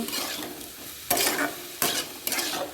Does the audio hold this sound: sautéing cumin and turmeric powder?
yes